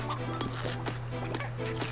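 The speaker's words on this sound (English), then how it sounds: "So normal chickens reign here." Chickens cluck in the video game Slime Rancher, a run of short, repeated clucks and squawks close by over a steady low hum from the game.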